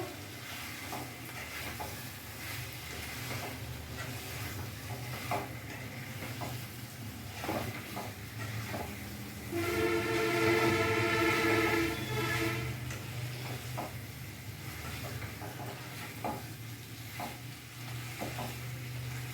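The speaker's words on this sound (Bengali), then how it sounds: "এবার ভালো করে মশলার সাথে আমি কষবো।" Fried potato and pointed gourd are stirred with spices in a pan over a medium flame, a steady sizzle broken by regular scraping taps of the spatula that grow louder briefly midway.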